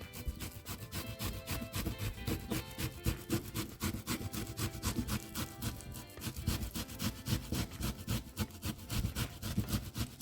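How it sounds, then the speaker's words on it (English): Green plantain is rubbed back and forth over a grater in quick, regular rasping strokes, a close, continuous scraping rhythm with no talk. "I just grate it first so it is in its finest possible state"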